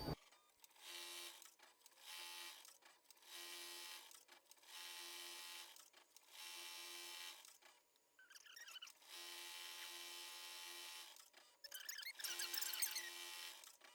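An embroidery machine sews an outline stitch on a chenille sweatshirt, running in steady bursts of rapid mechanical whirring separated by short pauses, with a higher, busier stretch near the end.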